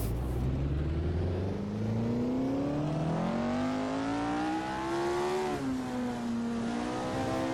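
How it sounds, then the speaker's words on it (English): A Lotus 49 race car in Assetto Corsa lapping the Nürburgring Nordschleife, its engine loud and close as it revs up through the gears, pitch climbing and dropping with each shift. "this is the Lotus 49 around the Nürburgring"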